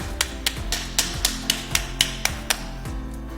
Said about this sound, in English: You can simply hold it like this and then use a spanner to hammer it.